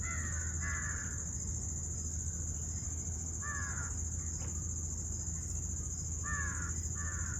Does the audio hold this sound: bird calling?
yes